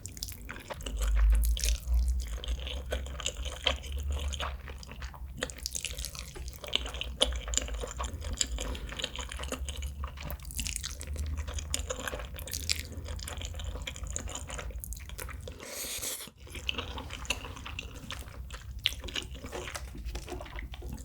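Close, intimate eating of cheese buldak noodles, bburinkle chicken and fudgy chocolate cake, with wet slurps, chewing and small drips over several seconds, and no talking.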